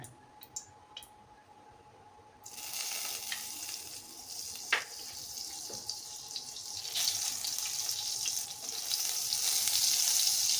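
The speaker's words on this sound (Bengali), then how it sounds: "এতিয়া মই এইখিনি ফ্ৰাই কৰি ল'ম এতিয়া মই এটা কেৰাহী বহাই দিলোঁ" Chicken sizzles loudly as it fries in butter and oil in a kadai for chicken tikka masala, with a steady hiss that grows fuller after a quiet start, plus a few clinks of a utensil.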